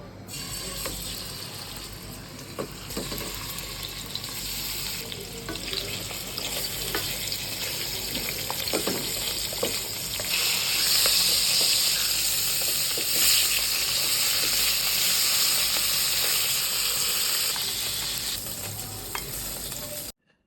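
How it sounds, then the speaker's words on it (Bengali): Rohu fish heads, rubbed with salt and turmeric, fry in hot oil with a steady, loud sizzle and bubbling that swells midway, broken by scattered scraping clicks of a utensil turning them over. "এবার রুই মাছের মাথাটা এপিট ওপিট করে তেলে ভেজে তুলে নিব"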